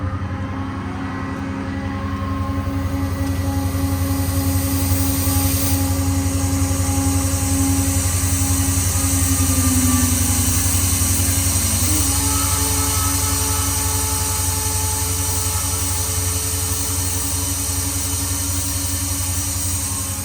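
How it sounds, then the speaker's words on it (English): A truck-mounted air compressor on a Ram 5500 service truck with a Cummins diesel runs continuously, a loud steady mechanical drone with a low rumble and a slight shift in pitch midway. "Compressor's operated right off this auxiliary switch."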